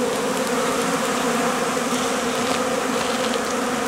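Honeybees swarm around an opened hive in February on a cleansing flight, giving a dense, steady buzzing drone that holds close and loud the whole time with no pauses.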